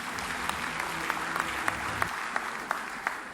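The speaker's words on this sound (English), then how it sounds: "I think we can give another round of applause for that because that was amazing." An audience applauds after a song performance at a teaching awards ceremony, steady clapping filling the room with a few sharper individual claps standing out.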